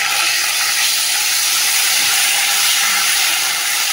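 Ginger paste dropped into hot mustard oil with fried chili and bay leaf tempering gives a steady, loud broadband sizzle and hiss that holds evenly throughout, with no talking.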